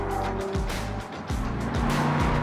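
Lotus Emira sports car pushed along a tight winding road, engine revving up and dropping through quick gear changes, exhaust close and loud with a faint tire squeal, and no one talking.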